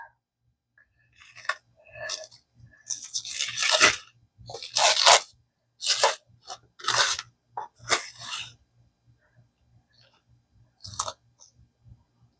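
Crisp crunching cuts as tortilla pinwheel rolls are sliced into pieces, a series of close, irregular bursts separated by quiet gaps.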